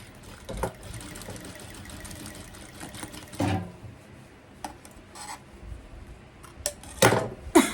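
A sewing machine stitching a dress runs in close, steady bursts with short pauses between, a busy mechanical whirr punctuated by a few sharper clicks and knocks.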